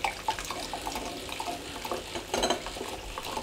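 Kefir poured into a glass fizzes and bubbles close by, a busy, crackling liquid sound with a brief louder burst of splashing near the middle, steady throughout with no talking.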